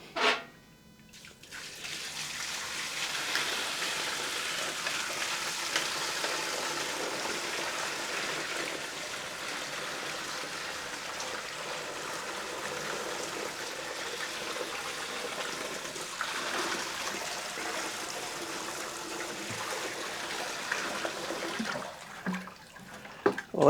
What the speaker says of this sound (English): now we'll rinse it off. Just straight water.